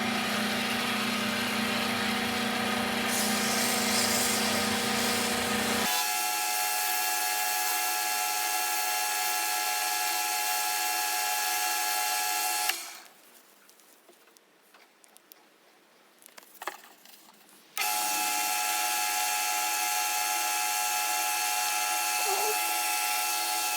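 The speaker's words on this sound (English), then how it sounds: "We're just going to polish up this CA glue and see if we can't get a nice little finish on this." Wet-sanding and polishing a CA glue finish on a handmade pen: a loud, steady motorized whir with a high whine, cutting off for a few seconds mid-way before resuming at the same level.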